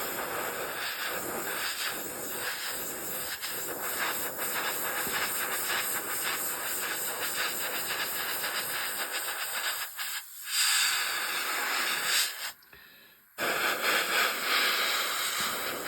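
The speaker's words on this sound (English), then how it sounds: "I've already got the airbrush loaded up with some paint. We'll just give it a quick once over." An airbrush sprays AK RAF dark green paint onto a vintage 1958-tooling Airfix Whirlwind model kit, a steady close hiss that runs continuously, with a few brief pauses and bursts near the end.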